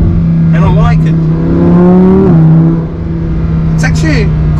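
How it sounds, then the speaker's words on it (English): A Lamborghini Huracan's V10 engine hums as a low, steady drone under someone talking, its pitch briefly climbing and then dropping back midway. "It's actually quite louder, it's got a deep V10 growl"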